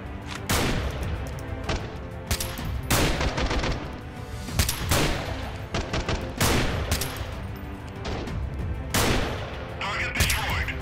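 Video game gunfire in Freeman: Guerrilla Warfare: dense, loud bursts of automatic fire and repeated sharp shots across the whole stretch, with a voice talking over parts of it.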